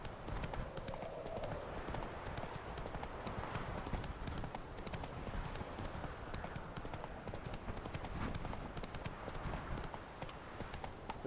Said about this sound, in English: Ahora estoy aprendiendo a manejar mejor el caballo.